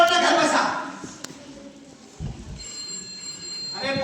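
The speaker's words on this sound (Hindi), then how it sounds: "अरे फोन किसका आ रहा है?" A telephone ringtone chirps during a live stage drama at an annual event, starting after voices in the first second and repeating as a steady, moderately faint electronic tone over hall noise.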